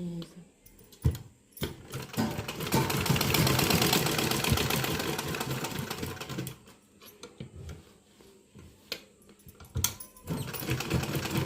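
A sewing machine runs in a fast, buzzing burst while stitching a dhoti salwar, then slows into shorter stop-start runs with clicks and handling noises.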